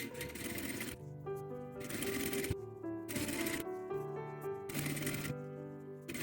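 A domestic sewing machine stitches piping for a home suit in rapid mechanical bursts of whirring and clatter, with short pauses between runs and a steady hum underneath. No voices are heard.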